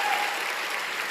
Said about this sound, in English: let's cheer ourselves